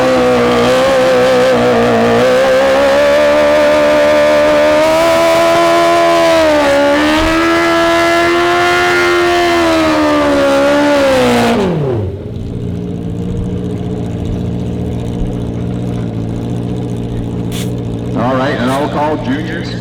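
Loud, close engine roar from high-8-second drag racing bikes at a Canadian heads-up meet, rising in pitch through hard acceleration for about eleven seconds, then falling away as the bike passes, leaving quieter crowd and track ambience.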